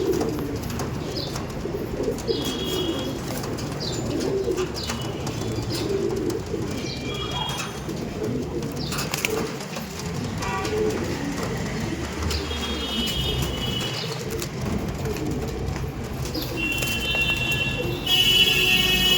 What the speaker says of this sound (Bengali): পায়রা দেখুন